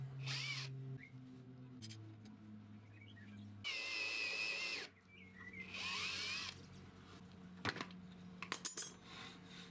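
A power drill bores holes through a plywood brace held in a jig, with two close whining bursts of drilling separated by pauses, followed by light clattering and tapping sounds as pieces are handled in a workshop.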